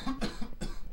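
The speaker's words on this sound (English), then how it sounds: "I've been coughing" A run of quick, harsh coughs from a person, close and fairly faint, several bursts packed into a second with no talk around them.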